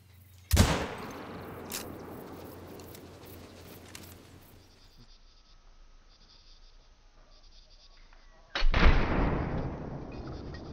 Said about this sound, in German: Wir setzen mal den ersten Schuss.